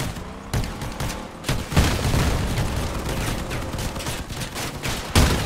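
Vehicle-mounted shotguns blast repeatedly in the game Crossout, loud booming shots spaced irregularly amid a continuous rumble of combat.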